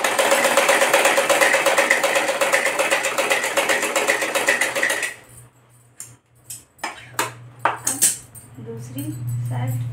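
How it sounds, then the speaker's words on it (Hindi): Sewing machine stitching the waistband onto a flared Patiala salwar, running in a fast, steady rattle for about five seconds, then stopping into short bursts of stitches with handling noises and a low hum. "ये देखिए यहाँ जो ये था कॉर्नर, यहाँ से रख के हम सिलाई स्टार्ट करेंगे।"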